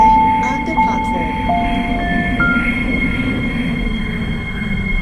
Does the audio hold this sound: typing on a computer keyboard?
no